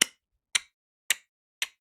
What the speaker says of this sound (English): What's that fucking ticking?